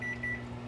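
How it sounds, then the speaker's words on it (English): An electronic kitchen timer beeps on the stovetop beside eggs frying in a pan, a thin tone sounding twice in quick succession over a faint steady hum, with no talk. "timer just went off"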